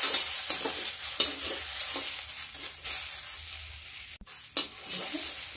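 Onion frying in a pan, a steady hiss of sizzling with scraping stir strokes every second or so, close and continuous with a brief dip near the end.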